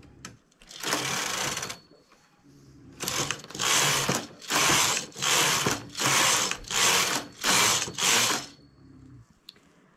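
A domestic knitting machine carriage sweeps back and forth over a cuff worked in contrasting, thicker yarn: one long pass, then a run of six quick, even, whooshing rattles, close and loud with no talk.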